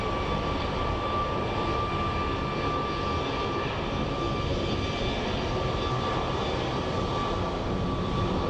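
Jet airliner engines at Phoenix Sky Harbor International Airport, a steady loud broadband roar with a faint tonal whine held throughout, no breaks or voices.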